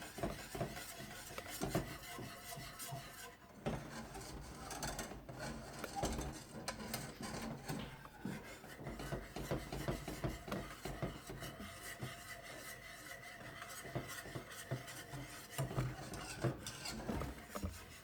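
A spoon scrapes and stirs chocolate glaze in a pot as it is brought to a boil, producing continuous close rubbing and scraping with irregular clinks against the pot.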